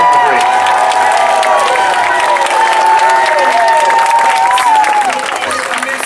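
A crowd at a sea lion show at the Florida State Fair applauds and cheers steadily, with clapping and whoops filling the space throughout.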